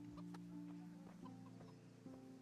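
Chickens cluck in the video game Kingdom Come: Deliverance, a steady series of short clucks and soft calls over a quiet game ambience, moderately close but faint overall.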